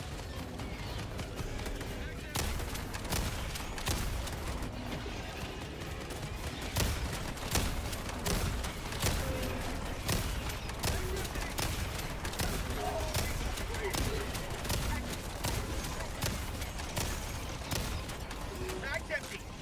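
Video game combat with rapid, repeated gunfire bursts and grenade launcher shots crackling throughout at a moderate, fairly distant level, with a voice speaking over the action.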